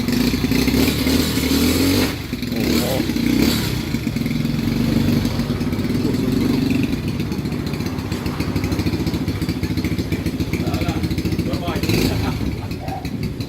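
A motorcycle engine idles roughly and revs in bursts with clattering mechanical noise after carburetor repair on a water-damaged carburetor, while people talk nearby over it.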